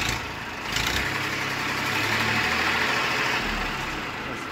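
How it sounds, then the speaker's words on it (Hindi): A 2004 Massey Ferguson 1035 DI tractor with 4600 hours runs its engine at raised revs. The rumble is steady and moderately loud, swells slightly early on, then holds with no talking. "दो एक मेरा रेस देकर बंद करियो।"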